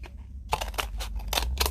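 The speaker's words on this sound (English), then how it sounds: "and cut slits across the plate like this" Scissors snip slits across a folded paper plate in a paper-plate weaving snail craft, several short crisp cuts in a quick run after a brief quiet start, close and fairly loud.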